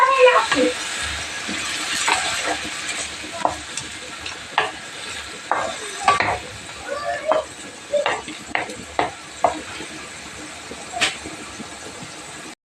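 Pumpkin sautéing in a pan, a soft continuous sizzle broken by repeated scraping stirs of a spoon at irregular intervals, fairly close and moderately quiet.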